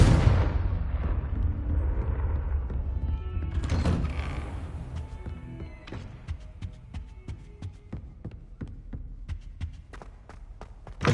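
A Confringo explosive spell from Hogwarts Legacy bursts with a rumbling blast and roar that fades out, followed by a run of soft, regular footstep-like thuds.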